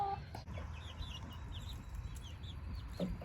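A large hen once mistaken for a rooster clucks faintly at a distance, a few short scattered calls over quiet outdoor background noise, with no talking.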